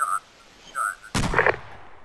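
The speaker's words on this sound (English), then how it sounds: "Enemy fire!" Gunfire in a military video game: one loud, sharp burst of shots with a crackling tail that fades over about a second, preceded by two brief tonal electronic beeps.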